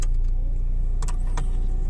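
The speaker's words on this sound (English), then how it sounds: "See if the blowers work." Heater blower fan running inside a Fiat Panda 1.3 Multijet diesel, a steady, fairly loud whooshing whir with a low hum and a couple of brief clicks, no voices.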